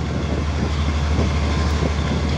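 A non-air-conditioned passenger train in Thailand rumbles with a steady low roar and faint rhythmic clatter, heard up close and continuously with no talking.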